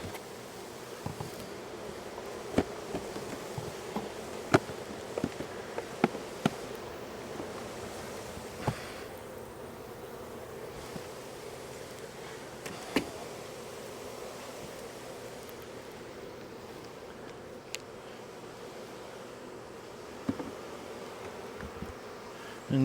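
Honeybees buzz steadily around the entrance of a beehive outdoors, a soft continuous drone with occasional louder passes of individual bees close by.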